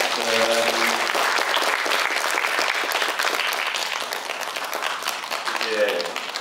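Audience applause at a school string orchestra concert fills the room with steady, dense clapping throughout, while a voice speaks over it at the start and near the end.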